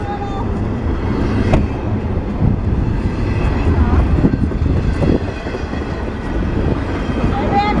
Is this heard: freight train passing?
yes